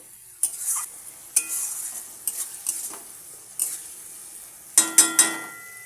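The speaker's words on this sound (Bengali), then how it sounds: "ভালো করে মশলাটাকে আমি কষিয়ে নিচ্ছি যতক্ষণ না লাল হচ্ছে" Spice paste for mutton curry is fried and stirred in a pan: a soft, steady sizzle is broken by a series of sharp scraping stirs of a utensil against the pan at an irregular pace.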